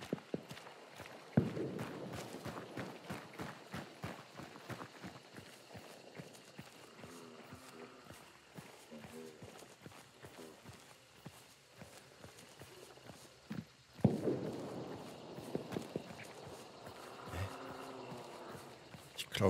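Footsteps in the game Hunt: Showdown: many rapid, sharp steps running through the clip, mixed with horse clip-clop and occasional talk, fairly faint in a busy game soundscape.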